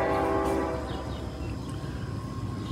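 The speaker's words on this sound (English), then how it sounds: "a train decides to come through right at this time" A train rumbles past nearby, a loud continuous roar with horn-like tones at the start that settle into steady rolling noise, with no voices.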